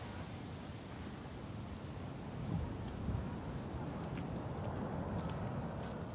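Ocean waves at a beach make a low, rumbling, continuous surf noise with gentle swells, faint and steady with no talk.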